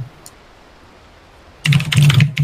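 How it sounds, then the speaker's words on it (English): A noisy mechanical keyboard with a typewriter-like clack is typed on in a quick, loud burst of keystrokes after a near-silent pause, with no one talking. "It's a very noisy typewriter mech keyboard."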